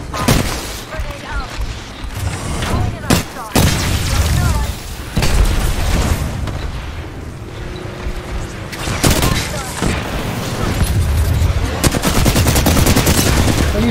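Heavy automatic gunfire and booming explosions in an Apex Legends firefight, rapid close bursts and scattered shots filling most of the stretch, with players talking in between.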